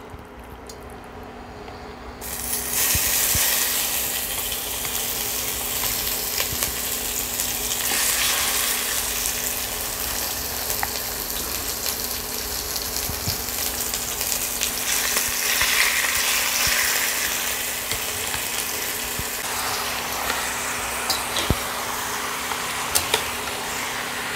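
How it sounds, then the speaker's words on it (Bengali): Marinated chicken hits hot mustard oil and sizzles loudly, a dense steady crackle that swells and stays bright close up, with faint stirring clinks and no talk. "তেল গরম হয়ে গেছে, এবার ম্যারিনেট করা চিকেন আমি দিয়ে দিচ্ছি।"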